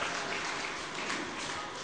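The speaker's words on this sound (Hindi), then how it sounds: "सब तालियों के साथ उनका स्वागत कीजिए" An audience claps steadily to welcome performers onstage at a Human Rights Day event, a dense, even wash of applause throughout.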